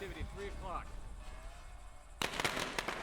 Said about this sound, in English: Going to throw some firecrackers.